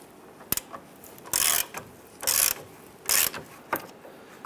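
Ratchet clicks from an 18mm deep socket loosening the bolt on the rear lower forward control arm of a 2005-2010 Chrysler 300, in several short bursts of rapid ratcheting with single clacks between, close and alone.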